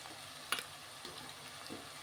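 Ginger garlic paste fries in a pan with green chillies, giving a soft, steady sizzle broken by a few brief clicks of stirring, quiet and close.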